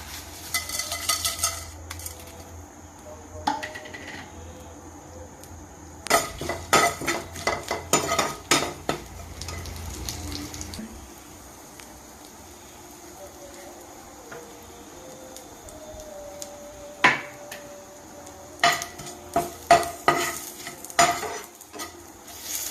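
Garlic fried and stirred in a little oil for a roti pachadi with spring onion stalks, with bursts of metal spoon scraping and clinking against the pan over a quiet sizzle and pauses between.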